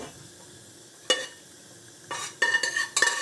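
Ghee sizzling in a pressure cooker, a quiet steady crackle with several sharp metallic clinks and scrapes of a utensil against the pot, close by, with no talking.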